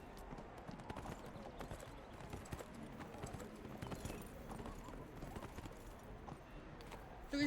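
Horse hooves clip-clop steadily in the fantasy video game Neverwinter, a continuous rhythmic trotting at moderate loudness throughout, with faint talk underneath.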